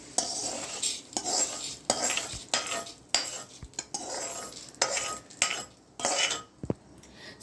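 Fried urad dal scraped from a pan onto a plate with a metal spoon, a series of close, bright clinks and scrapes in irregular bursts, a few sharper taps standing out, no voices.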